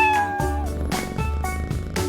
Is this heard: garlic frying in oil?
no